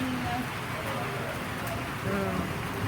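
Rain falls steadily on a roof during a storm in Parkes, a continuous dense hiss and patter filling the space, with low voices murmuring faintly underneath.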